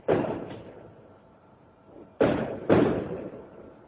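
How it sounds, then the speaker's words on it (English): Distant fireworks going off in India, heard as three loud, booming thuds, one at the start and two in quick succession near the end, with quieter rumbling in between. "there are fireworks happening in India right now."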